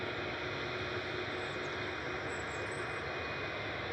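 A Loganair Embraer ERJ 145 from Aberdeen on final approach into Manchester Airport gives a steady, distant engine roar with broad airy rumble, holding level throughout without voices.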